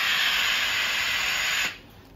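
A steam station set to maximum blasts a loud, steady hiss of escaping steam that holds evenly for about a second and a half, then abruptly cuts off to a faint residual hiss.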